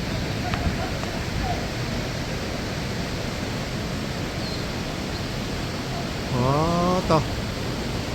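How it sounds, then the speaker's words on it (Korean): Water of a valley stream tumbling down from a waterfall in Juwangsan's Juwang Valley, Cheongsong, gives a steady, loud broadband rush throughout, with a brief burst of high chirping near the end. "폭포에서 내려오는 계곡 물소리가 우렁차게"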